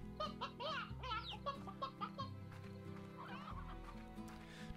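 Chickens in the video game Slime Rancher cluck in a quick series of bright, choppy calls layered over steady, droning game music, with no talking.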